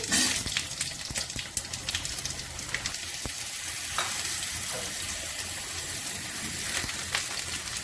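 Potatoes hit hot oil tempered with cumin and garam masala for a cabbage curry, giving a loud, bright sizzle that stays steady throughout, broken by occasional clicks and scrapes of stirring.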